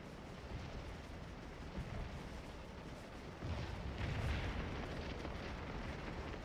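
Artillery guns fire across a Civil War battlefield in Scourge of War, heard as distant booms rolling under a constant wash of battle rumble. The noise swells louder in the latter half.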